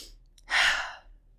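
A single natural exhale during breath meditation, a soft, close, breathy sigh lasting about half a second, following a quiet moment.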